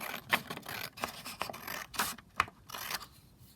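Scissors make a few quick snips through fabric close by, each cut a short crisp scrape separated by brief pauses.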